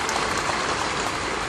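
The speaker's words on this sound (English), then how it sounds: "You give the Lord a clap for that." A church congregation clapping during a sermon, a dense, steady wash of many hands applauding that fills the whole moment without pauses or voices.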